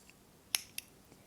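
Scissors snip through crochet yarn at the top of a large loop: two quick, crisp clicks close together, faint and alone in a quiet room.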